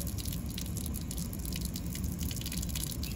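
Water poured out as an offering to the moon at night, a steady close splashing and trickling that runs unbroken for the whole stretch with dense dripping patter.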